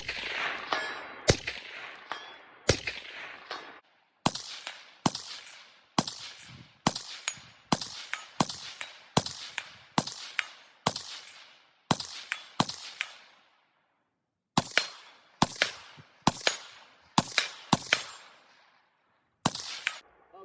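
Rifle with a suppressor and a Bowers Griptastic suppressor cover, fired shot after shot in a long string. The sharp, loud reports come one at a time at a steady pace, with short breaks between groups and no talking.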